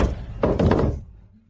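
Knocking on a wooden house door, a short burst of firm knocks heard close and fairly loud, followed by quiet.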